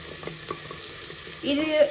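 Onions hit hot oil in a pan for chicken curry, a soft stirring scrape giving way to a louder, near sizzle in the final half second.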